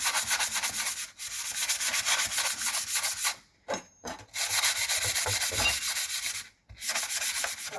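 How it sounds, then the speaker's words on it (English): Rough rubbing strokes scrub across metal parts from a Merseyrail Class 502 train under restoration, clearing off built-up muck in steady bursts with short pauses between, close and fairly loud with no voices. "the process now is to basically rub down, get all the excess muck off"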